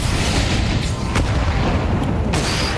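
A grenade blast from Counter-Strike 2 during a live esports match in Paris, heard as a loud, booming rumble with dense low-end noise. A couple of sharper bursts stand out over the steady, roaring din.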